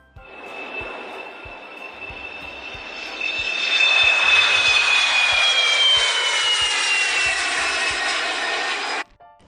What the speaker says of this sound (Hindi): ये एरोप्लेन था।